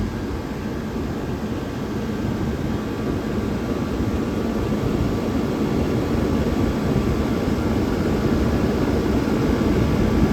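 A 1978 Comfort-Aire Quietmaster air conditioner runs at full blast, its fan producing a loud, steady whooshing roar with a low motor hum and no break in the sound.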